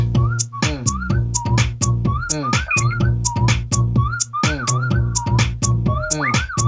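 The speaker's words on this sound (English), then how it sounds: "which is me whistling" A person whistles a bouncy melody in a garage, over a steady rhythmic backing beat with a bass line, the tune sliding between notes in short phrases, loud and close.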